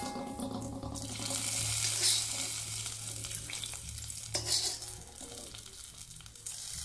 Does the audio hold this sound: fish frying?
yes